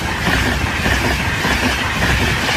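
A train rumbles steadily past a level crossing at Bathley Lane, with continuous heavy wheel rumble and rhythmic clickety-clack from the rail joints, loud and close throughout with no voices.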